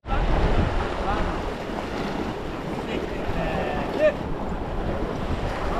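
Strong wind gusting by the sea at a shore fishing spot near Silifke, with continuous roaring buffeting on the microphone and waves underneath, steady and loud throughout.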